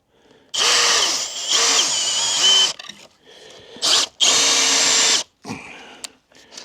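A power drill whines loudly in several long bursts, its pitch sagging under load as an auger bit bores into wood, with brief pauses and clunks between runs.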